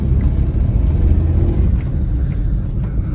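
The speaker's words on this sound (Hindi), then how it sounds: "अब यहां से चढ़ानी पड़ेगी भैया ऊपर गाड़ी" Car engine rumbling steadily as the vehicle climbs a hill road near a hotel in Bilaspur, Himachal Pradesh, a close, constant low drone with no voices.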